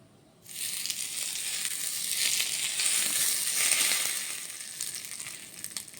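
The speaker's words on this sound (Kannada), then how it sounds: "ಈಗ ಸಣ್ಣದಾಗೊಂದು ಒಗ್ಗರಣೆ." Spices for a tempering hit hot oil for a red chutney served with dosa and idli. A loud, steady sizzle bursts in after a brief silence and holds for about five seconds, close and alone, with no talking.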